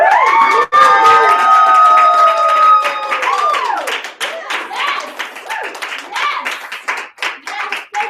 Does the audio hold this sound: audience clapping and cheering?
yes